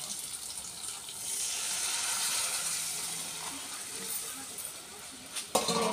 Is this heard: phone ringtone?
no